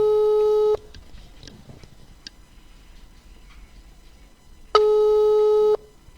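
A telephone line signal repeats while a caller waits for a brother to pick up, steady tone bursts about a second long at the start and again near the end, separated by quiet line hiss.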